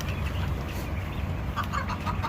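Chickens cluck faintly over a steady low hum on a quail and chicken farm in the United Arab Emirates, with a few brief calls near the end.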